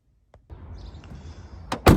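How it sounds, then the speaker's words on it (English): A Tesla car door closes with a solid thump near the end, after a brief rustle of someone getting out and moving around the car, heard close and without speech. "Close the door,"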